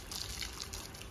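Water splashing and dripping as a Tibetan Mastiff puppy is bathed with cold water from a hose pipe, a light, close patter of drips and trickles with no talk.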